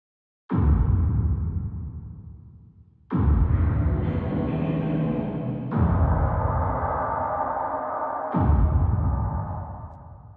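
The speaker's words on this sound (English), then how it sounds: "this is what it sounds like this is just the reverb actually by itself" Four washy plate reverb swells, the reverb alone, start abruptly one after another, each a dense wet tail that lingers and slowly fades, with no dry sound on top.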